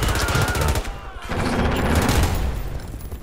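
Rapid automatic turret gunfire from the Armor Alley video game, dense bursts of repeated shots with a brief pause near the one-second mark, then continuous firing that stays loud to the end.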